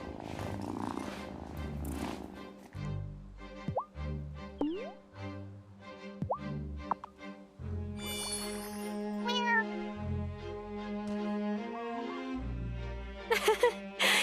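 A cat in the mobile version of the game Wylde Flowers meows several times in short, distinct calls over soft background game music, with no one talking.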